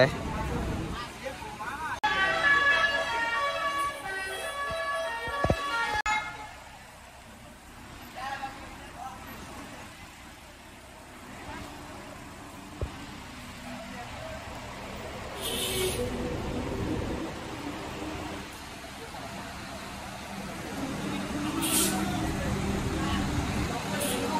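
Buses sound melodic basuri horns in bursts amid roadway traffic and hissing air brakes, with a long musical honk early on and shorter blasts later, under a crowd of people talking.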